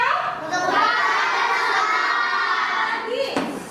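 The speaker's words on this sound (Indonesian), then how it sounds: "Tepuk tangan untuk Kakak." A classroom of young children cheers and shouts together in a loud, sustained burst lasting several seconds, with a sharp clap-like hit near the end as the noise fades.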